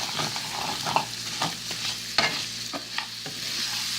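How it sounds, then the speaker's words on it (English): Rice-A-Roni rice and vermicelli sizzle in a frying pan over medium-high heat, a steady close frying hiss broken by scraping stirs and light clicks of the utensil against the pan. "So you pour it inside the frying pan like this."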